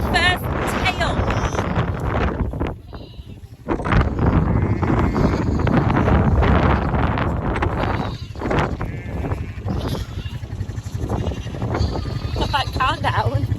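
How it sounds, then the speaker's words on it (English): Strong wind on a farm buffeting the microphone in heavy, uneven gusts, with sheep bleating repeatedly and people talking intermittently over the roar. "It's really windy."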